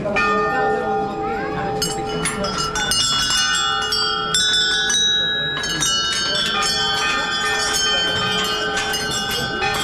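Temple bells ring continuously in a dense, overlapping metallic clangour with bright sustained tones, while faint voices murmur underneath.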